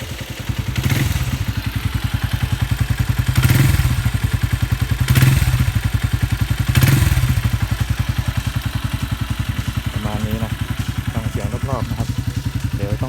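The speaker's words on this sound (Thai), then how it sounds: "เดี๋ยวลองเบิ้ลให้ฟังเบา ๆ นะครับ" A Ryuka Infinity motorcycle engine idles with a steady, close, throbbing putter, rising in four light, brief revs at regular intervals before settling back to idle; someone speaks briefly near the end.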